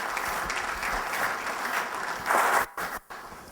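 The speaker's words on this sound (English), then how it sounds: "So please give him a round of applause and bring him up." Audience applause at a 2013 bootcamp event, a dense steady crowd clapping that swells briefly near the end before cutting off abruptly.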